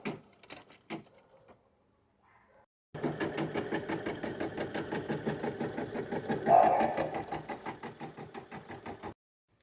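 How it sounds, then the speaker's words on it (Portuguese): An embroidery machine stitches placement marking on hooped fabric for a bear-shaped dish-towel hanger: a fast, even mechanical chatter that runs for about six seconds after a few quiet handling noises, then stops abruptly. "A máquina vai fazer a marcação para mim."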